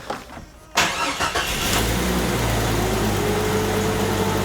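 A Jeep Cherokee XJ with a loss-of-power problem cranks briefly, catches with a sharp start, then settles into a steady, loud idle close by, with no talking.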